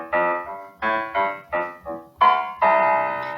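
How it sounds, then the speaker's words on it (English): Piano playing low notes: about eight rich, resonant struck notes, the last ones held and ringing out, close and fairly loud, with no voice. "And it can also play really low notes that sound like this."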